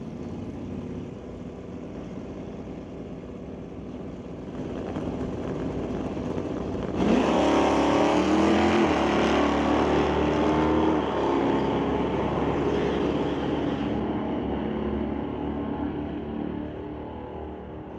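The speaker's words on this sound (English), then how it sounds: "Bring up Joel Smith for the Zapstrap Racing Chevelle versus Veronica Hodgson with a 1969 Dodge Dart" A Chevelle and a 1969 Dodge Dart at a drag strip during a Sportsman race produce a steady, loud engine roar that swells midway as revving intensifies, then fades slightly toward the end.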